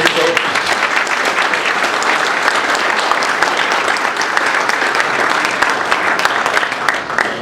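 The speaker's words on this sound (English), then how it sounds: "give them a round of applause" An audience at a talk on flavor extracts in craft and home-brewed beers breaks into sustained, dense applause that holds steady throughout.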